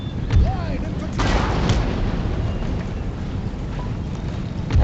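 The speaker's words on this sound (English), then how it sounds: "these cannon fires are reaping havoc" Cannon fire from line infantry battle in Empire Total War, Great Britain campaign: heavy booming blasts and rumbling roar over continuous wind-like noise, a dense burst mid-way, with faint game voice chatter.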